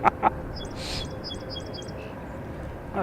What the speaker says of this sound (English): We also got the birds chirping around us here.